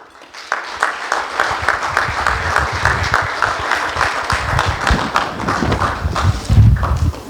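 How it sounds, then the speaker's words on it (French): A lively burst of applause at a graduation party for a Kinshasa-born graduate, dense close clapping mixed with thumps and stamping, sustained and loud throughout with scattered voices in the crowd. "Est-ce qu'on peut l'acclamer?"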